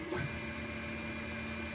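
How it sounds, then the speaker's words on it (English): An Anycubic Mega S 3D printer runs a print job, its stepper motors giving off a loud, steady whine and hum with fixed tones layered over mechanical rumble, held unbroken throughout. "Now printer is start printing, and you could hear how loud it is."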